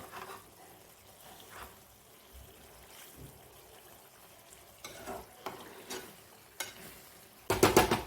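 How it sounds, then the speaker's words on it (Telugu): Small fish and mango curry with masala gets stirred in a pan, giving soft scraping and faint sizzling, quiet and intermittent, with a louder clatter of the spoon at the end. "ఒకసారి మొత్తం కలుపుకుందాము సైడ్ నుంచి ఒక్కసారి ఈ మసాలా అంతా పట్టేటట్టు"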